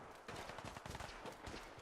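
Gunfire in Fallout 4, a rapid burst of shots with reports piling quickly on top of one another, fairly loud and continuous and with no voice over it.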